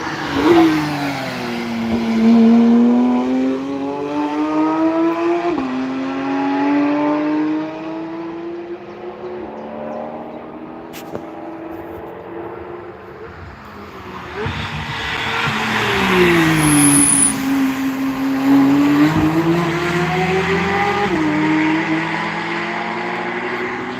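Race cars roar past on the Nürburgring during a track day, engines rising and falling in pitch as they accelerate and shift, loud and continuous with a brief tire squeal.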